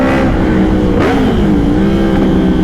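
A 2023 Yamaha MT-10 SP motorcycle with an aftermarket exhaust accelerating, a loud continuous engine roar rising in pitch as it revs, close up and dominating throughout.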